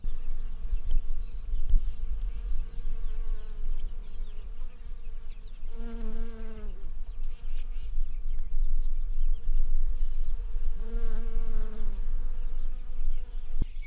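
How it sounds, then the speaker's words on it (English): Honeybees buzzing steadily over a pasture, a constant insect drone with two louder, closer passes as bees fly near. "see if y'all can hear all these honeybees"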